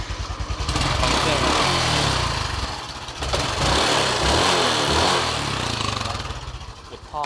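A motorcycle engine runs steadily at idle, close by, with a low rumbling throb that dips briefly and returns for several seconds.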